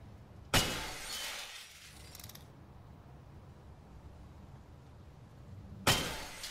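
Glass shatters in a horror video game set in a school: a sharp crash of breaking glass with tinkling debris trailing off, then a quiet stretch before a second loud shatter near the end.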